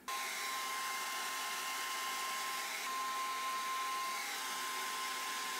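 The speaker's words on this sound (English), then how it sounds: "Now we just have to blow dry it." A hair dryer blows steadily while drying hair, a loud, close, continuous whoosh with a thin whine running through it and no talk.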